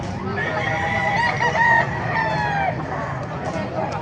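Hens and roosters at a Baliuag market cluck and crow, several birds calling over a busy, continuous farmyard din.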